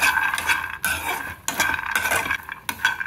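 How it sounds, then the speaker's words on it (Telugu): Peanuts dry-roasted in a pan without oil on a low flame, stirred so they rattle and scrape against the metal in repeated close bursts with short pauses between. "పల్లీలని ఇలా వేయించుకోవాలండి, సిమ్లో పెట్టుకుని చక్కగా వేయించుకుంటే వేగిపోతాయండి"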